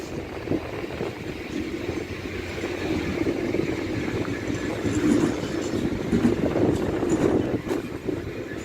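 Freight train hauled by locomotive 69003 passing through Lincoln Central station, a steady continuous rumble of wagons rolling by at moderate distance, with faint rail clatter and no talk.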